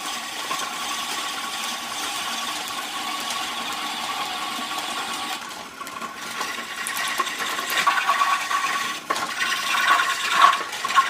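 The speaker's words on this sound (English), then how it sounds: "since I'm actually sitting here on the lathe, any motion that the lathe gets while I'm pedaling, I'm kind of moving in sync with it" A pedal-powered Barnes No. 3 lathe makes a steady, continuous cut, a close, even scraping and whirring hum with a rasping texture that grows louder and more uneven in the last few seconds.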